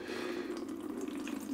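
Nutrient water poured steadily onto a potted mango plant, a continuous close splashing and trickling with no talk.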